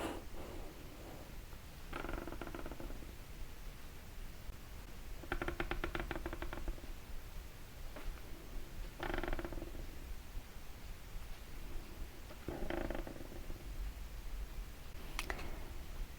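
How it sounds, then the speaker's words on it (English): Short, faint squeaks come in several separate strokes spread evenly apart, a soft Tombow brush pen tip dragging across paper in a quiet room. "Tombow pens are a little bit squeaky"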